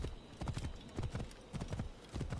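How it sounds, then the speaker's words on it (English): A horse in the video game Assassin's Creed Origins trots along with steady, rhythmic clip-clopping hoofbeats, fairly quiet and continuous throughout. "It's not heresy, it's a horse."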